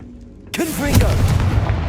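The Confringo blasting spell in Hogwarts Legacy goes off with an abrupt, heavy boom, followed by a sustained rumbling roar. A voice speaks during the blast.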